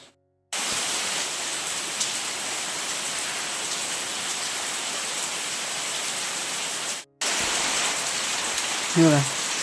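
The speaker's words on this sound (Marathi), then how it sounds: "खूप पाऊस पडतोय" Heavy rain pours steadily, a loud dense hiss that fills the clip, briefly cutting out near the end before resuming.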